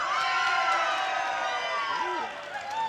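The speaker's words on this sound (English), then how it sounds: "let's hear a cheer from anybody who belongs to the Rotary Club." A crowd at a community awards event cheers, whoops and shouts loudly and steadily for several seconds, the noise fading slightly near the end as a voice breaks through.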